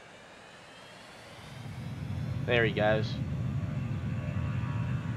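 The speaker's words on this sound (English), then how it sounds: "Let's watch the plane take off." Passenger jet on a Virgin flight taking off near a bridge, a steady broad engine roar building and holding throughout, with a brief voice speaking over it.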